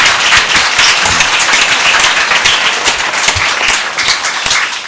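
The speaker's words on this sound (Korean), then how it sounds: "우리 선생님들에게 격려의 박수 한번 할까요?" Church congregation applauding teachers during a Sunday graduation service, a loud dense burst of many hands clapping that fills the room steadily, with no talk over it.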